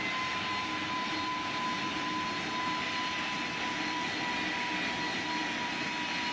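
A Boeing 747 in a flight simulator game landing, a steady broadband jet-engine roar with a thin constant tone, even and loud throughout with no talk.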